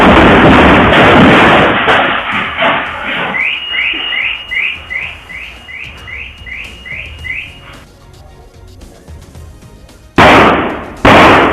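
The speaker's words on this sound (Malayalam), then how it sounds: "ക്ഷേത്രോത്സവത്തിന് കൊണ്ടുവന്ന പടക്കമായിരുന്നു പൊട്ടിത്തെറിച്ചത്." Firecrackers stored for a temple festival explode, damaging nearby houses: a loud, close blast with a rumbling roar, then a run of sharp whistling chirps, a quieter lull, and another heavy burst near the end.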